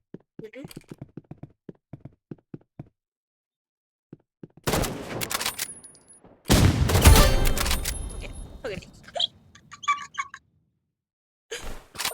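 Sniper rifle gunfire in the Roblox Rivals shooter game, sharp clicks followed by loud bursts of shots and rumbling impacts, mixed with a voice talking.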